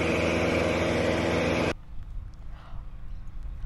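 A tractor engine runs at 2,500 revs, a loud, steady, harmonic drone that cuts off abruptly partway through, leaving only faint low background rumble.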